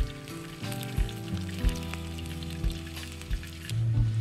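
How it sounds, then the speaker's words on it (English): Roast pork sizzles and crackles while cooking at a rainforest campsite in the rain, giving a steady close fry with sharp pops and a low hum underneath, and nobody talking. "It's already sizzling."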